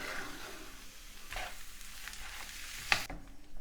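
Chopped tomatoes stirred into a hot pan for a chilli Quorn dish, a steady soft sizzle with faint scraping and one brief clink near the end, fairly quiet and with no talk.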